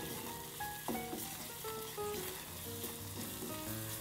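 Onions and flour frying over medium heat in a pan while being stirred, a steady close sizzle running throughout with occasional tonal scrapes and clinks from the spoon.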